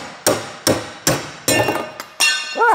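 Repeated hammer strikes on metal while knocking a strut fork off a Mitsubishi Eclipse GSX: six sharp, ringing blows in an irregular rhythm, close and loud, with a brief squeaky tone at the end.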